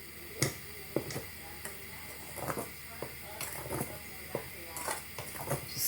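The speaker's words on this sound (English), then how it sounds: "Stir it around to get all the ingredients mixing beautifully together." A spoon stirring ingredients in a pot, giving scattered metallic clinks and scrapes against the cookware over a steady background hum.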